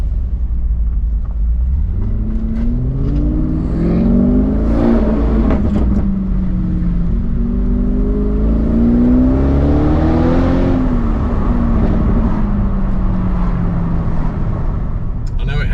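An Audi RS6 ABT rated at 750 bhp, fitted with an Akrapovic exhaust, accelerates through a tunnel, its engine note swelling and echoing in waves under someone talking.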